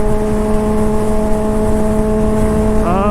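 Honda CBR600RR sport motorcycle fitted with a new loud aftermarket exhaust, a close, steady droning engine tone that climbs sharply in a quick rev at the very end.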